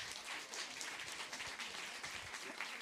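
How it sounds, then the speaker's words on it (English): An audience applauds qualifying songwriters at a Tennessee Songwriters Week livestream event, with steady, dense clapping that holds at a fairly even level throughout and no voices on top. "So give them all a big round of applause."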